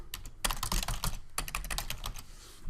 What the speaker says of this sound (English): I'm just going to type in your about information